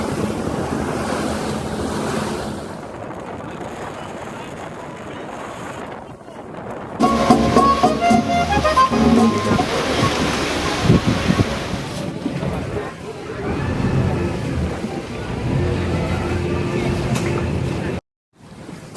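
Wind buffets the microphone as a boat motors out of a harbor across open water of a calm bay near the Darien Gap, waves rushing and slapping against the hull, with a brief muffled voice partway through.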